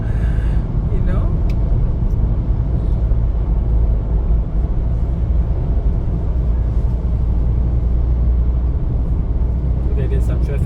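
Cars idle and creep in traffic at the Singapore–Malaysia border crossing, a steady low engine rumble heard from inside a private car, with a few faint clicks and taps.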